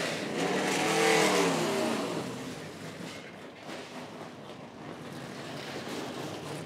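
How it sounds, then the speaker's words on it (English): NASCAR Nationwide Series race cars roll out of the garage gate at Chicagoland Speedway with a loud engine roar that swells and then fades into a steady rumble, with no one talking. "Cars just rolling out of the gate."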